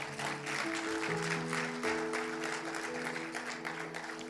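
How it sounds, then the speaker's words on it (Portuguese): A church congregation applauds, a steady wash of clapping running for several seconds beneath sustained organ or keyboard chords. "Você pode dar um aplauso bem forte ao Senhor?"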